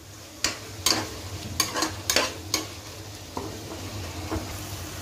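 Tomatoes sautéing in oil in a pan for jackfruit biryani, with a steady sizzle under repeated scraping stirs of a spoon against the pan, about eight strokes close by.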